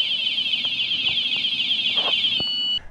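A golf cart alarm blares a steady, piercing electronic tone close by with brief warbling shifts, then cuts off abruptly near the end; faint knocks and clicks sound in the background.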